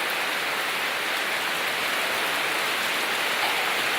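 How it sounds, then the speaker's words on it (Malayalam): Heavy rain falls steadily in Kerala as the monsoon arrives, a dense continuous hiss of drops with no breaks and no voices. "എങ്ങനെയുണ്ട് മഴ ഇന്ന്"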